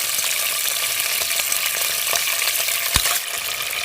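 Chopped garlic fries in a pan with white vinegar and hot sauce, giving a loud, steady sizzle with a few stirring clicks and a sharp clack near the end.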